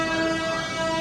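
Indian Railways diesel train horn at Raipur Junction sounds one loud, sustained steady blast close by, filling the whole moment with no speech.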